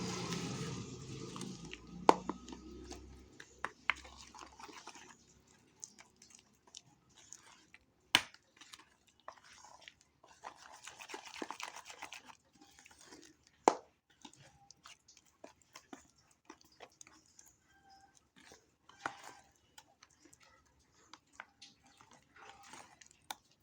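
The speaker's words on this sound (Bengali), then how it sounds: "যাতে মশলাগুলো ডাল বাটার সঙ্গে খুব ভালো করে মিশে যায় নাহলে কিন্তু খেতে কিন্তু ভালো লাগবে না এইভাবে খুব ভালো করে একটু মিশিয়ে নেব" Ground lentil batter being mixed by hand with spices, giving soft, wet squelching and slapping sounds close by, repeated irregularly with occasional sharper knocks and no talking.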